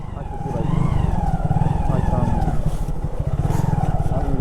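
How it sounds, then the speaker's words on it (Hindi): A motorcycle ridden along a village road, its engine droning steadily and close with slight surges in pitch, and wind noise throughout. "अक्षय भाई बोल रहे हैं मुझे भी ले चल आगे से, दूसरी बाइक लानी है।"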